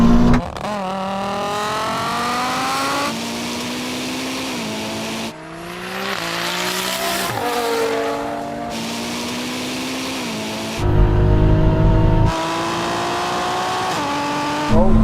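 A Ferrari SF90, a 1,000hp VW Golf R and a BMW M240i roar and rev hard in a rolling drag race, climbing through gears with abrupt shifts, loud and close, sustained throughout with cuts between angles.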